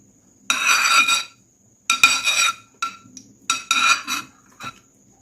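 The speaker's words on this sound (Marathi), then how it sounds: "आता कढईत मी घेते दोन चमच तूप" Metal spoon clinks and scrapes against a kadai while ghee is spooned in, several separate bursts of clattering with short pauses between, close and clear with no talk.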